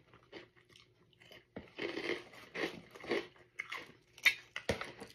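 Prawn crackers, a Philippine-made brand, are crunched and chewed close to the mic in a series of crisp bites, quiet and without talk.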